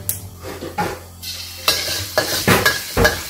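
Chopped garlic stir-fried in hot oil sizzles steadily while a spatula scrapes and pushes it around the pan in several quick strokes, close and fairly loud, with no voices.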